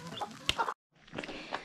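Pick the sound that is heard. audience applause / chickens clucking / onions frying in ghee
chickens clucking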